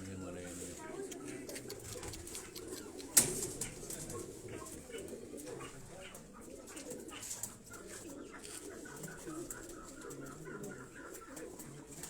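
Pigeons kept by a fancier in Quetta coo softly in repeated low murmurs, partly under a voice, with one sharp knock midway and a faint rooster-like call in the background.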